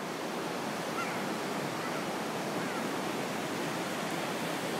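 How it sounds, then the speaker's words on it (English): Steady, loud roar of beach surf where a small river tributary runs out to the sea on a mild day, a continuous wash of broadband noise with no talk. "We're out here at the beach."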